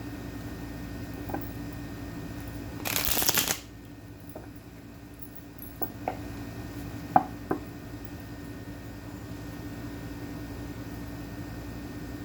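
Tarot cards being shuffled in one quick, loud riffling burst lasting about half a second, followed by a few faint taps and handling sounds against a quiet room hum.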